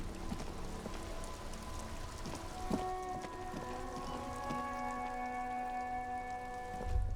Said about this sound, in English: Droplets of rain fall on the white on blue police livery of the motor carriage.